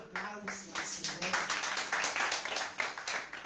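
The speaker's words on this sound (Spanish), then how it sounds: "Denle un aplauso al Señor" Church congregation clapping in applause, a steady patter of many hands rising slightly and continuing with voices mixed in underneath.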